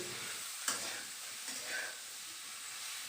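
Potatoes and eggplant fry in oil with a soft, steady hiss of sizzling, and a couple of light stirring knocks come close by against the background.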